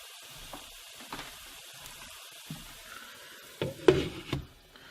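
Chinese potsticker dumplings fry in a pan as a soft, steady sizzle, joined by a few clicks and scrapes of handling. A louder clatter comes near the end.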